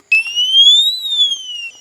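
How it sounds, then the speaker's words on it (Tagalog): Thermal sensor alarm on a camping security device sounds one loud, close electronic tone that sweeps upward, then falls back, lasting under two seconds after a brief silence. "So once na meron siyang madetect dito sa paligid, dito sa mismong sa may sensor, talagang mag-a-alarm siya."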